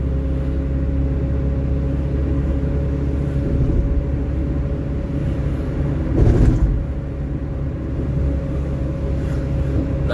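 Car driving on a public road heard from inside the cabin, a steady low engine and road rumble with a brief louder bump midway, no voices.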